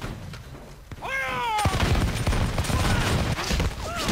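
Massed musket volleys crackle in the Napoleon: Total War video game, a sharp burst followed by a sustained rolling fusillade of overlapping shots, mixed with brief tonal game sounds.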